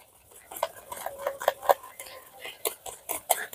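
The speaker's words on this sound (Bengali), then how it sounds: "এবারে এই সবকিছু ভালো করে ফেটে নিতে হবে।" A utensil whisks sponge cake batter of hot milk and baking soda in a steel bowl, giving quick, uneven metallic clinks and scrapes at close range, with faint low voices underneath.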